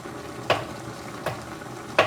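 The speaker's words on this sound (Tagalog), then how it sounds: "Pakuluan lang nating mabuti." Ginataang langka with anchovies cooking in a pot, a soft steady simmer broken by three sharp stirring clinks spaced evenly apart.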